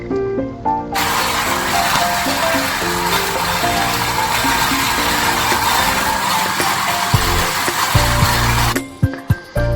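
A kitchen blender runs loud and close as its noise level is measured, a dense continuous whirring roar lasting most of the clip before cutting off, with a few clunks at the end.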